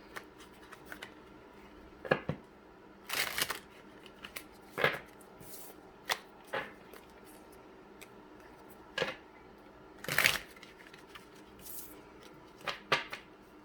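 Tarot cards from a deck being shuffled, heard as scattered riffling and slapping bursts spread across the clip, moderately close against a quiet room with no talking.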